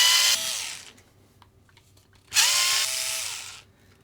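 A cordless power driver spins out two screws from a Kyosho Optima Mid '87 RC car, two short high whirring bursts with a brief winding-down pitch, separated by a quiet pause.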